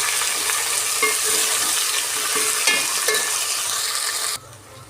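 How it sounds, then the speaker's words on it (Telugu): Tomatoes, mint and coriander frying in a pan for khichdi, a loud, close, continuous sizzle with a few stirring scrapes, ending abruptly. "ఇప్పుడు టమాటా పుదీనా కొత్తిమీర వేసుకుందామండి ఒక ఐదు నిమిషాలు బాగా ఫ్రై చేసుకుందామండి"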